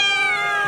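A cat gives a single short, clear meow, close and loud, with no other sound around it.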